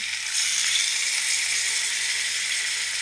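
A steady loud hiss and sizzle as water goes into a hot pan of spiced chicken curry, continuous and close with no break.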